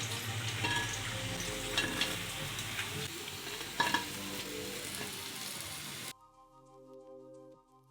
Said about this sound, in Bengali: লাল করে ভাজা হয়ে গেছে এখন আমি নামিয়ে নিচ্ছি